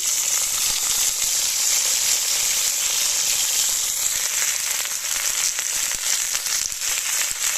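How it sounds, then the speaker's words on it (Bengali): Flat beans (shim) fry in hot oil in a wok, giving a steady, dense, loud sizzle and crackle that holds throughout without talk. "একই কড়াইতে আমি তেল দিয়ে নিচ্ছি, আর এবার আমি দিয়ে নিচ্ছি শিম"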